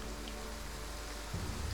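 Steady rain falls during a battle in the video game Total War Pharaoh, an even, continuous hiss of drops with no pauses and a slight low rumble near the end, with no voices.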